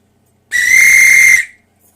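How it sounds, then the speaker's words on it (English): A railway guard blows a whistle once, a single loud, shrill blast lasting under a second, clear and alone against silence. "At last the guard blew his whistle"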